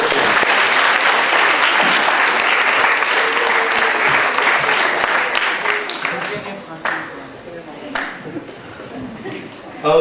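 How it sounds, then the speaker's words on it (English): Audience applause at a school matric ceremony, dense and loud at first, then thinning into scattered claps that fade out toward the end. "Give her a round of applause."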